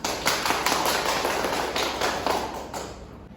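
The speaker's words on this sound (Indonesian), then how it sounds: "Mari kita berikan aplaus untuk kita semua." A class applauds together after group presentations, a dense run of many hands clapping at steady volume for a few seconds with no voices.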